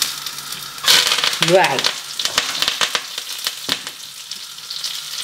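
Garlic frying in hot oil, a bright crackling sizzle that flares loudly partway through and then settles into steady spitting, with a brief spoken word near the end.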